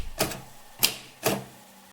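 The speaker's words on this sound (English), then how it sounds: "Compare this to my fully mechanical typewriter, where you need to push each key quite a long distance and with considerable force." Three separate, hard keystrokes on a fully mechanical typewriter, each a sharp clack spaced slowly and unevenly, close and clear with nothing else heard.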